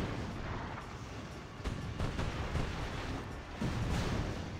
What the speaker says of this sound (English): Ah, there's the cannon.